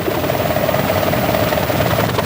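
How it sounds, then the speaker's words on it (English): A drone flies overhead in the countryside, making a steady loud buzzing whine with a constant tone that holds throughout. "Looked like a drone"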